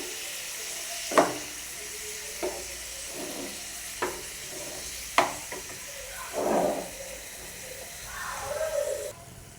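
Boneless chicken fries in oil with curry leaves, chilli, chilli powder and salt, a steady close sizzle with scattered pops and stirring scrapes running throughout.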